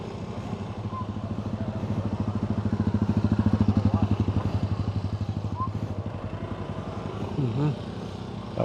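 A motorcycle engine drones steadily nearby on a rough road along the Malabon megadike, its pulsing rumble swelling and easing as it rides along, with a brief voice near the end.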